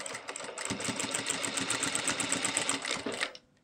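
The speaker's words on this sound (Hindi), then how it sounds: "अब हम लगाएंगे इसमें सिलाई।" A sewing machine stitching a collar neck runs in a steady, rapid mechanical rhythm at close range for over three seconds, then stops abruptly.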